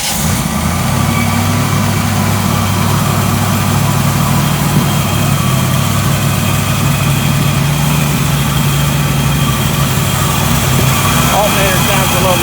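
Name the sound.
1967 Chevy El Camino engine running, noisy alternator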